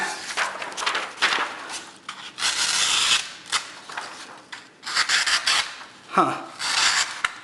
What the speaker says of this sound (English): Let's try a cut test again.